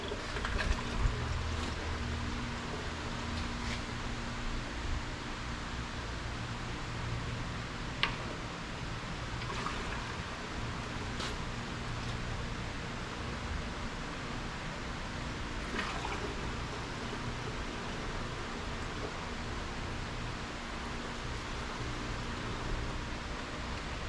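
Water pours steadily into the radiator of a 1964 car, a constant broad rushing wash that runs alone without a break, with a few faint clicks and taps mixed in.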